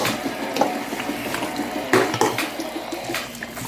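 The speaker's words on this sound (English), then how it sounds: "I'm going to stir this up" Jamaican chicken curry being stirred in a pot, with wet sloshing and soft scraping of a spoon against the pot at close range, a few louder knocks standing out.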